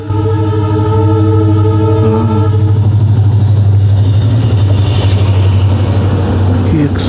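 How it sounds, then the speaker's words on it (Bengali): A diesel train crosses the Sevoke railway bridge, its engine giving a loud, steady low drone that holds throughout, with voices faintly audible in the background. "মনে হচ্ছে ডিজেল ইঞ্জিনই আছে, মালবাজার বা মাল জংশন থেকে আসছে।"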